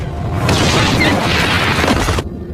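A loud, sustained dynamite blast with crashing debris noise, lasting about two seconds before cutting off abruptly.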